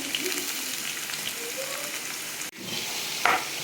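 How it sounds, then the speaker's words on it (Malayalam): Onions sizzle steadily in hot ghee in a pan, a dense close frying hiss throughout, with a brief dip and a sharper crackle near the end; no one speaks. "സവാള കുറേശ്ശായിട്ട് നമുക്ക് ഫ്രൈ ചെയ്തെടുക്കാം"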